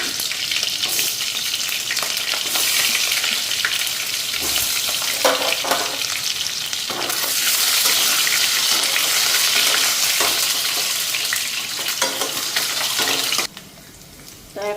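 Washed potatoes hit hot oil in a pan and fry with a loud, dense, continuous sizzle, stirred with occasional scraping knocks, before the sizzle drops away abruptly near the end.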